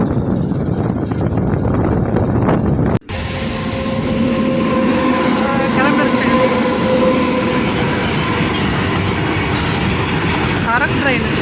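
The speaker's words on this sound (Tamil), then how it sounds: "சரக்கு ட்ரெயின் அந்த பக்கம் கிராஸ்." A freight train rumbles past close by at a level crossing, a loud continuous roar with rhythmic clattering of wagons on the rails, after a brief cut near the start.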